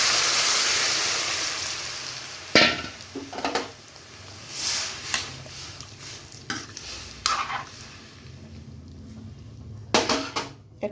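Potato and mango sour curry bubbling in a pan on a gas stove, a soft steady simmer and sizzle with occasional sharp clinks and stirring scrapes; no speech.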